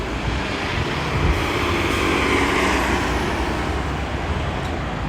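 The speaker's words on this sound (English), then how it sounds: "CTA bus." A Chicago CTA transit bus rolls along a city street, its engine a steady broadband roar that stays loud and even throughout, with no talking.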